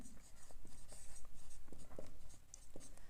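Chalk or marker scratching on a board during a physics lesson in class, with short strokes and taps at an irregular pace under low room noise.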